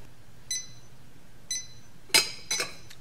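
A kitchen timer in a lab setting goes off after five minutes, giving two short faint beeps a second apart followed by a few brighter ringing chimes, close and alone in a quiet room.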